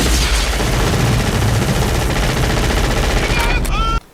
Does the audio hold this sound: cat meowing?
no